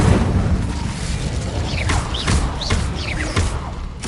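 An Incendio fire spell in Hogwarts Legacy erupts with a series of loud whooshing bursts and booming thuds, several quick blasts spaced about half a second apart over a rumbling bed.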